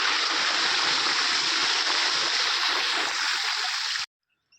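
Water from a pump gushes into a farm field, a loud, continuous rushing flow heard up close that cuts off abruptly near the end.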